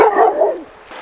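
A dog gives one loud, close bark that trails off into a brief whine, followed by quiet.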